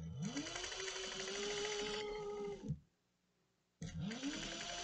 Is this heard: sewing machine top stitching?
yes